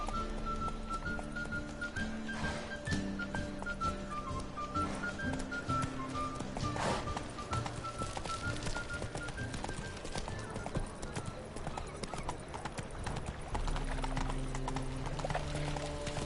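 Roach, a horse in The Witcher 3, gallops with a quick, steady clip-clop of hooves over game music, with a soft whinny mixed in along the way.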